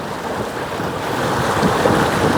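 A boat driven by an ePropulsion Spirit 1.0 Plus electric outboard cruises at full throttle, giving a steady, close rush of water and wind noise that builds slightly and carries on throughout.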